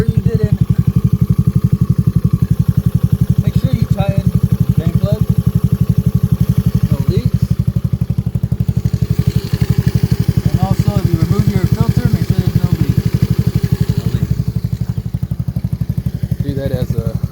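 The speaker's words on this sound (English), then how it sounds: "start the engine at least for a little." Honda Navi motorcycle engine idling just after an oil change, a steady loud close thrumming putter running throughout, with someone talking over it now and then.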